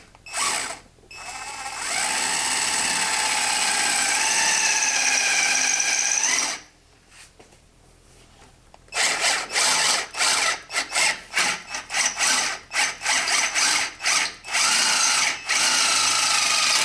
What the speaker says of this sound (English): now that we've got this this hole drilled